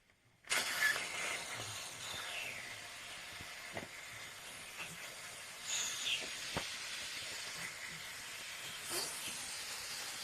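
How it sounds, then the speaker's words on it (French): Steam escaping from the loosened cap of a Dupray Neat steam cleaner: a sudden loud hiss bursts in after a brief quiet, then continues as a steady, close rushing for about ten seconds, swelling and easing slightly. "je vais prendre le risque de le desserrer un peu le bouchon"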